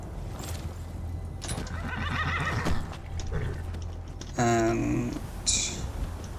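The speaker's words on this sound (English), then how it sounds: "Because that will make our horse spawn behind us." A horse in the Skyrim video game whinnies loudly near the end, a high, quavering neigh over steady game ambience, with hoof clip-clop and a low hum beneath it.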